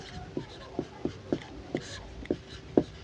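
A pen writes out a Class 10 math solution on paper, with about seven distinct scratchy strokes at an irregular pace. The sound is close and quiet, with faint breathy background noise between the strokes.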